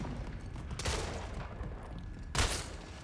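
Gunfire in the Splitgate video game, rapid bursts of shots at moderate distance with two sharper, louder volleys standing out against a constant busy background.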